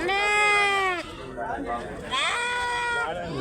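Young lambs bleat loudly and close by at a busy goat market, with one long cry followed by more, and someone talks underneath.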